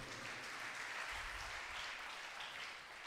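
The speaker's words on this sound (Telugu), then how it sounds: "చప్పట్లు కొట్టండి" Congregation clapping during a church service, a dense, steady wash of applause lasting the whole stretch at a modest, distant level.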